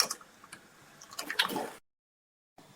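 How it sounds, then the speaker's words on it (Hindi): Cold fridge water poured into Kashmiri chai in a pot while it is stirred, a close, wet run of drips, squishes and liquid splashes building to a louder gush before cutting off abruptly. "अब इसके अंदर आधा गिलास और मैं पानी ठंडा फ्रिज का शामिल करूंगी। ये आधा गिलास और डालूंगी इसके अंदर।"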